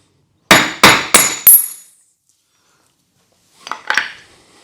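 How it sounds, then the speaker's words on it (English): Four sharp hammer strikes on metal in quick succession, each ringing briefly, followed after a pause by a couple of lighter metallic taps. "Couple hits with a hammer."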